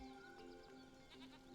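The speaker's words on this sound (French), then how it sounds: "Il commence à avoir un peu de mouton hein, dans les coins" Sheep bleating in the Skylanders: Spyro's Adventure video game, a few wavering bleats over a steady game soundtrack, quiet and without talk.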